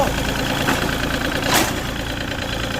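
A Komatsu PC30-7 mini excavator's diesel engine idles close by, a loud, steady, even chug with a rough rattling edge that holds constant throughout.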